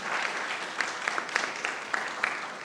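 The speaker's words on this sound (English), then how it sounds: "Round of applause to that answer." An audience at a convening event claps after an answer, a steady burst of applause with a few sharper individual claps standing out, and no talk heard over it.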